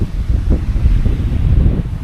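Strong wind buffets the microphone in low gusty rumbles, steady and loud throughout with no voices.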